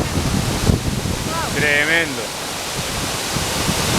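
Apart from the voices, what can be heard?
El Limón waterfall overflowing with water, Dominican Republic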